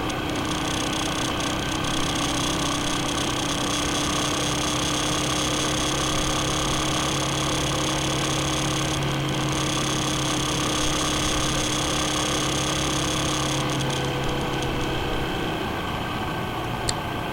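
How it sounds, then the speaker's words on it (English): A carbureted 2009 Yamaha XT250 motorcycle engine idles with a continuous, even, moderately loud drone and a steady hum, unchanged from start to finish. "this is a 2009 XT250, which is carbureted"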